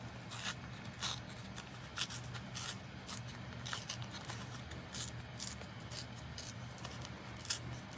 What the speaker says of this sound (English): So now I'm just going to tear along this long edge.